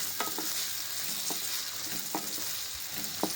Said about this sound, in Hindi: अभी यहाँ प्याज फ्राई हो रहे हैं।